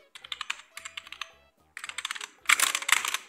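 Keys clatter on a Scorpion gaming keyboard with RGB lighting in quick close bursts of typing, separated by short pauses and growing louder and denser toward the end.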